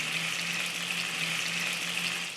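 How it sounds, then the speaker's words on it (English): Torn tortilla pieces and chiles de árbol sizzle and crisp in a hot pan for chilaquiles, a dense, even frying hiss that holds steady and loud from start to finish. "I'm going to tear up my tortilla as well and get this all kind of crisping at the bottom of this pan"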